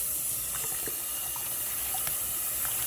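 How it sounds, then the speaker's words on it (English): Hot tap water runs steadily into a kitchen sink while a dish sponge is rinsed under it, giving a continuous close hiss with small splashy variations and no talking. "at the end of the night, clean off my sponge."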